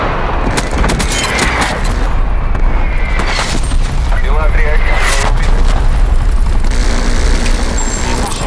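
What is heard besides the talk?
artillery strike explosions in a video game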